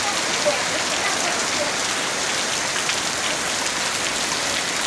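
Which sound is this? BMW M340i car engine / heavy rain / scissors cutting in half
heavy rain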